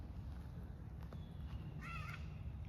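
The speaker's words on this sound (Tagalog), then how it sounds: "uwak ba yun?" A crow gives a single brief caw, faint and distant, over a low rumbling outdoor background.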